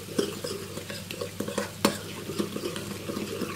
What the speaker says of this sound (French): Et là, on va mélanger le tout.